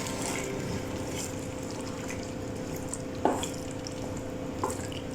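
Aloo palak, a potato and spinach curry with garam masala, being stirred in a pot: soft continuous scraping and bubbling with a couple of brief clinks, fairly faint and close.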